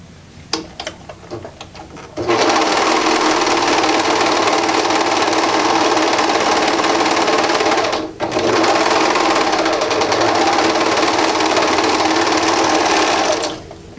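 A sewing machine stitches the seams of a faux fur knit beanie crown, starting with a short quiet handling noise before a loud, steady mechanical whir with one brief pause mid-run.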